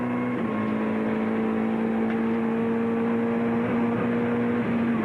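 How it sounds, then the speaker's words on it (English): A race car engine at Calder Park in 1995 screams at a constant high pitch at 265 km/h, loud and unbroken for several seconds, with faint shifts in tone. "Have a listen to the car. 265 kilometres an hour down here, Larry's doing."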